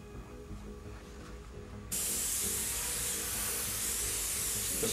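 Spray painting over a dragon skin stencil gives a constant close hiss. Partway through, it jumps to a louder, brighter spray that holds steady to the end.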